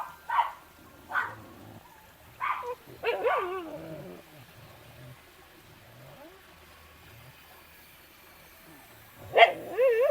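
Dogs bark in short bursts nearby in the Philippines, a few yips and sharp barks separated by pauses, over a faint waterfall background.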